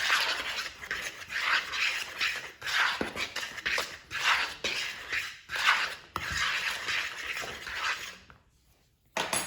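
A fork scrapes and stirs dry flour, cocoa, baking soda and salt in a bowl for a wacky cake, making repeated close, gritty strokes that pause briefly near the end.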